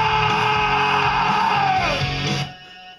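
A person tries out a loud, sustained scream, a strained vocal yell that holds and bends downward before breaking off into quieter background.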